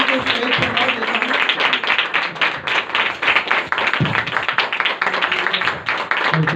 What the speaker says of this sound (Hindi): तालियां बजा दीजिए प्लीज़ ज़ोर से